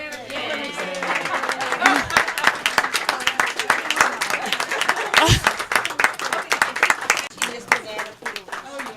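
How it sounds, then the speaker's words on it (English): A small audience at a food and farm show claps for a guest, with irregular, close handclaps mixed with voices talking over them. "Could we have a round of applause?"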